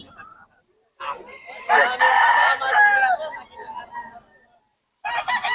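A Sweater Gold gamefowl rooster crows loudly and close by in a long, harmonically rich call, with a brief burst of clucking or a second crow near the end and short gaps of quiet between.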